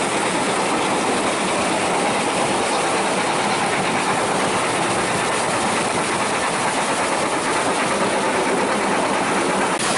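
A North Yorkshire Moors Railway train runs along the line past a row of workmen's cottages beyond the depot, giving a loud, constant rumble of wheels and carriages with no pauses.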